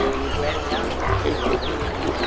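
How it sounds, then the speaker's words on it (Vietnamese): Vietnamese native Mọi pigs grunting on a free-range farm, low snorts and grunts rising through a busy background of birds and ambient noise, with people talking over them. "Heo này là heo mọi."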